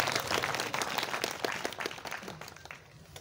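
Audience applause for guest speaker Sardar Saleem Haider Khan, a former federal minister, at a Khan Law Associate office ceremony: a dense, steady burst of clapping from a full room that tapers off toward the end, with no voices over it.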